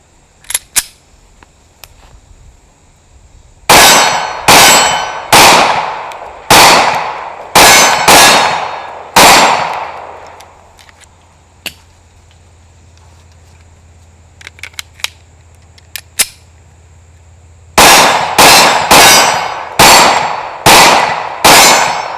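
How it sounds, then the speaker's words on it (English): Pistol shots from an M&P Shield 9 at a range, loud sharp reports fired alone in a rapid string of about eight, a pause with a few faint clicks and handling noises, then another fast string of six shots. "So let's go ahead and start shooting it also."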